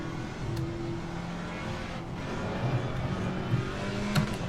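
An Alpine GT4 race car in the Assetto Corsa Competizione racing game holds a steady engine drone with small throttle swells and tonal shifts, continuous and even in level, with no speech.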